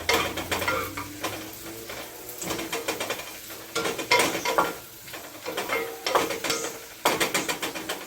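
Shallots sautéing in a pan, a steady broadband sizzle broken by repeated scraping stirs and clatters, close and moderately loud, with no talking.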